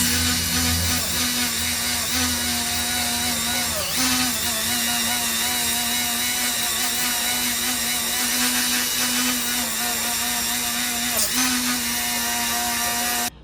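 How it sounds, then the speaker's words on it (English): A heat gun blows steadily as it softens the glue on a Case XX Stockman pocketknife, a loud, continuous motor whine with airy hiss that holds level from start to finish. "I'm using this heat gun here to heat that glue up"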